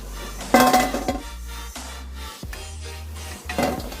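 Fried churma muthiya are transferred into a metal vessel, with clanking of metal pots and utensils, a few sharp clinks and scrapes over a steady low hum of the frying setup.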